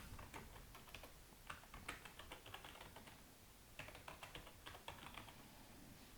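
Typing on a computer keyboard, a quiet, close stream of irregular key clicks with brief pauses, alone with no talking.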